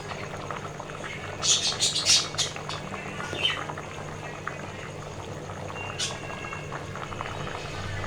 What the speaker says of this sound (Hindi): ये चावल बॉईल होना शुरू हो गया, साथ पानी भी बॉईल होना गया।